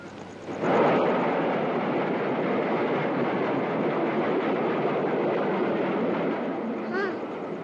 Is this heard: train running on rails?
yes